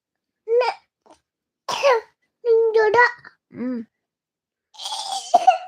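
A voice makes several short bursts of sound, including coughs mixed with babbling and vocal noises, separated by brief silences.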